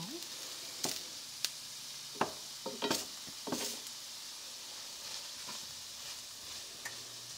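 Shrimp sizzle in a pan while being cooked for a pasta sauce, a soft steady hiss broken by occasional clinks and scrapes of stirring, with no voices.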